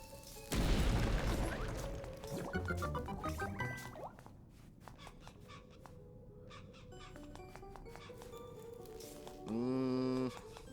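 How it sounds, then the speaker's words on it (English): A bomb bursts against a cracked wall in Zelda: Link's Awakening, a loud burst of blast and rubble early on, followed by scattered small game effects and a short tonal jingle near the end. "Place another bomb here to the cracked wall."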